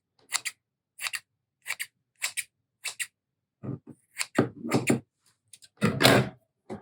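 Scissors snip through journal cover material in a run of short, crisp cuts, several evenly spaced strokes followed by longer, rougher crunching cuts, close and fairly quiet with no talk.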